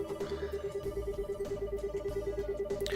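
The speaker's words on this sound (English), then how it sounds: "it sounds like a phone ring" A computer repeatedly emits an electronic tone like a phone ringing, a steady pulsing ring that continues without pause through the whole stretch, with a low background rumble beneath it.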